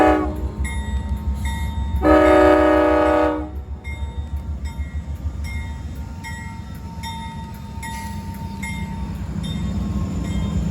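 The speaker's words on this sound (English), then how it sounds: "Here we have Amtrak 58, which stopped the flag at the crossing" Amtrak 58 passenger train rolling past a crossing, with a loud sustained horn blast early on, then the steady rumble and rhythmic clatter of passing cars, no voices.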